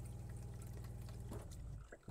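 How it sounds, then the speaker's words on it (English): Pressurized water runs from a tap in an overland tow-rig camper, a close, steady pouring and splashing that shifts and thins toward the end as the flow changes. "So I have pressurized water,"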